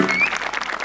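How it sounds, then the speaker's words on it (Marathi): A brief burst of loud clapping from a theatre audience at a comedy stage show, dense and sustained for under a second. "जोरदार टाळ्या."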